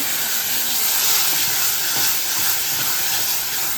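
Tomato puree fries in oil with cumin and mustard seeds for a home-cooked potato dish, giving a loud, steady, close hiss and sizzle that runs without a break and with no talking.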